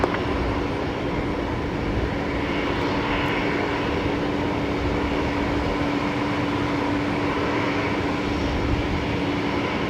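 A Boeing 737-300 jet rolls for takeoff at Brisbane Airport with a loud, steady engine roar and a sustained hum, continuous and unbroken, with no talk over it.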